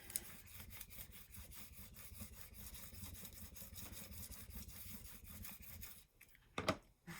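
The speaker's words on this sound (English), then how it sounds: "Now I'm going to turn it over and give it a good burnish again." A paper card for a book-binding explosion card being burnished by hand: steady, close rubbing strokes in a quick repeating rhythm, ending with a brief louder rustle of paper being handled.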